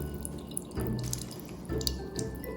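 Water draining and dripping from grated cucumber pressed in a strainer, a soft steady trickle with two brief surges as pressure is applied, close and quiet with no talking.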